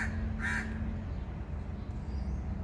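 One harsh bird caw rings out briefly at night over a constant low rumbling background, then only the noise continues.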